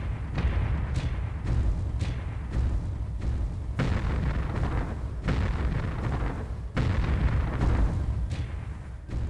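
Rocket platform explosions hitting the player's mech in the 1999 PC game MechWarrior 3, a loud, close barrage of repeated booms and sharp blasts over a constant low rumble.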